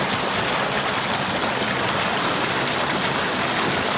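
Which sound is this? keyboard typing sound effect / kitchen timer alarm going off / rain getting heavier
rain getting heavier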